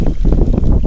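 Strong wind blowing across the Danube during a fishing trip, buffeting the microphone with a loud, steady low rumble.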